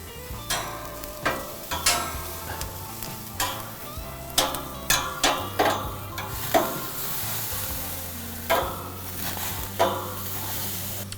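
Peppers fry and sizzle steadily in a hot pan, with a run of sharp scraping stir strokes from a spatula landing every second or so over the constant hiss.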